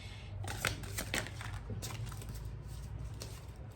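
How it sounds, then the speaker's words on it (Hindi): Tarot cards being shuffled and drawn for a reading, soft papery riffles and slides close to the microphone over a low steady hum, with no talk. "डिवाइन फेमिनाइन्स के लिए कुछ कार्ड्स हम निकालेंगे"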